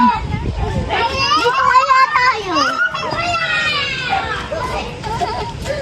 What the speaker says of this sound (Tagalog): Mga naglalaro po dito yung mga bata.